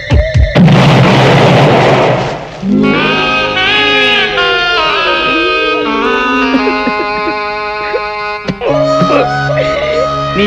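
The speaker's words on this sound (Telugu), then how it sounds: "అమ్మో, పేలుతాయేమో." A loud, broadband boom bursts out about half a second in and rolls for two seconds in a Telugu comedy film scene about a bomb planted in a house. Sustained musical tones follow, with no talking.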